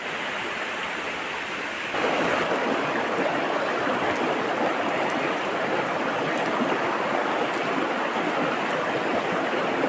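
Steady broadband rush of a river stream flowing, loud and continuous throughout, rising slightly in strength after the first couple of seconds with no voices.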